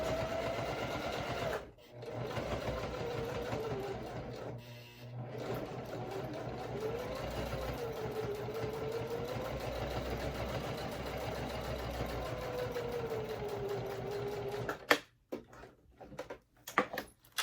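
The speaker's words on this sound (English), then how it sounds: "Let's finish up our top stitching and finish this wallet." A domestic sewing machine runs steadily for long stretches, top stitching a leather wallet, with a brief pause near the start and a few short stops and thumps toward the end.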